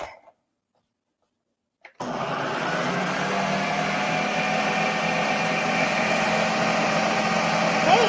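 A food processor blending whole lentils and pieces of onion starts after a brief silence and runs as a steady high-pitched motor whir, loud and close, continuing to the end.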